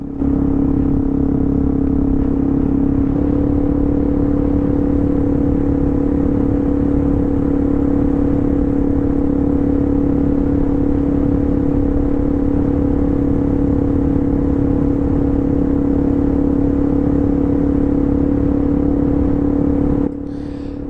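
A 2021 Suzuki DRZ400 dirt bike engine drones steadily while riding along a dirt road, a close, continuous hum holding a near-constant pitch that steps up once early on, with wind rush throughout and the engine dropping away at the very end.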